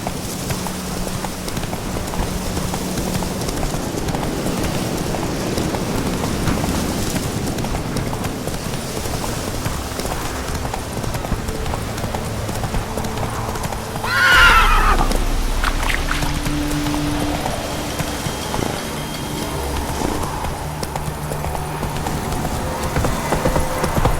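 Horse hooves clip-clop steadily in a video game, with a sharp neigh rising midway over a constant rainy background hiss.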